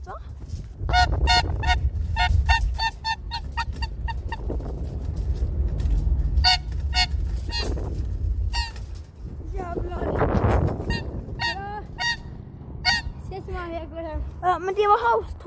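Short horn toots sound repeatedly, some in quick bursts, over a low rumbling background, with people talking between them.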